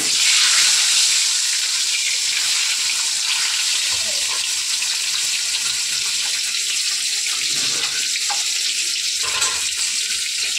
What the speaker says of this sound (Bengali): তেল গরম হয়ে গেছে, এবার ডিমগুলো ছেড়ে দেবো